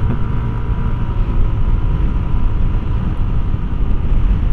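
A Yamaha NMAX scooter fitted with an upgraded CVT climbs an uphill road, giving a loud, steady engine drone mixed with rushing wind noise that continues without a break and has no speech over it.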